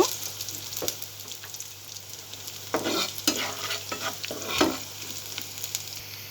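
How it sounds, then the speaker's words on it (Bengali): Bay leaves and whole cumin seeds fry in hot oil, a steady close sizzle punctuated by repeated scraping strokes of a spoon stirring the pan, with no talk. "এবার আমি আস্তে আস্তে তেলের সাথে সুন্দর করে একটু ভেজে নেব"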